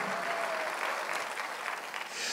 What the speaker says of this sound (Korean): 박수를 치며 하나님께 영광을 돌리시라고요